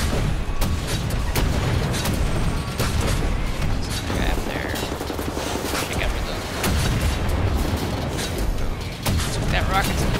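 Rapid bursts of gunfire and heavy explosive booms from rockets in a Wolfenstein: The New Order shootout, loud and dense throughout with a person talking over the combat.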